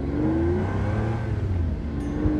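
Pagani Zonda supercar engine pulling and accelerating on an open road, a loud steady drone whose pitch rises gradually, heard from inside the car with no talk.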